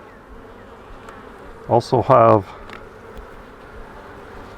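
Honey bees hum in a steady, low drone around an open hive during a queen placement in a split, with someone speaking briefly over the buzz.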